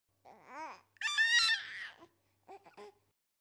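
A baby eating an apple babbles and lets out a short, high, crying wail, then a few softer fussy sounds after a pause, heard close with no other noise.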